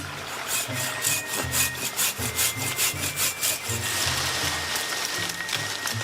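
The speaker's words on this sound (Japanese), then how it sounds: "この木はかなりいいですね。 太さ的にも長さもちょうどいいし、こちらを切っていきます。" A hand saw cuts through a tree trunk in a forest, its rhythmic back-and-forth strokes rasping loudly and steadily through the wood, close by and with no talk.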